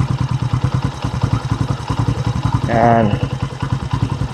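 A motorcycle engine idles close by while its carburetor is tuned, with a steady pulsing beat, a short throttle rise midway, and a voice speaking briefly.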